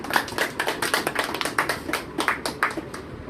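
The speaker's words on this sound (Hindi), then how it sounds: "आप इन लोगों के आने की खुशी में थोड़ा से आप ताली बजा दीजिए" Audience at a temple committee meeting in Sultanpur, Uttar Pradesh, claps hands together in a steady burst of many close, sharp claps that holds for the whole span.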